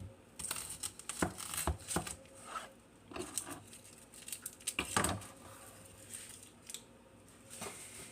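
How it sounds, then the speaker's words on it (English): A knife chops an onion nice and small for a home meatloaf, soft irregular taps and scrapes on a cutting board, fairly faint and close, with short bursts and pauses. "The first thing I'm gonna do is chop up this onion"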